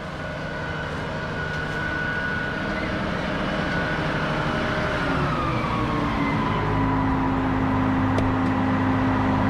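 Steady, loud machinery drone of a Case IH 9250 Axial-Flow combine harvesting corn, heard from inside the cab, with a constant engine and threshing hum and a tonal whine that shifts pitch partway through; no talking.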